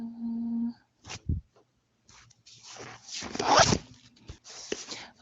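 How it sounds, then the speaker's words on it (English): Close, quiet paper handling indoors: a few short crinkles and sharp swishes, then a longer burst of rustling and shuffling near the middle, with brief pauses between, no voices over it. "Sorry about the papers rustling."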